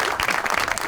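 Studio audience applause on a Tanz O Maza comedy talk show: a brief, dense burst of many hands clapping, loud and continuous.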